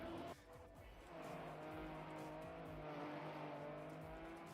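In the video game Trackmania, a rally car's engine roars steadily while its tires squeal and skid on the track, a loud continuous drone with rising and falling pitch.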